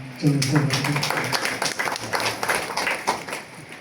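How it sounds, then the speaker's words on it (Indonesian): An audience applauds an honored guest at a formal ceremony, a dense burst of clapping that follows a brief voice at the start and keeps going steadily. "mohon tepuk tangan."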